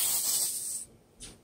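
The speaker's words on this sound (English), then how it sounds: "Now, we got the cooking spray." A can of coconut cooking spray gives a sustained hissing spray of just under a second, then a brief second puff, close and clear with no talking.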